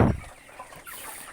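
Chickens on a backyard poultry farm give a soft, short cluck near the start, then faint scattered chatter follows over low background noise.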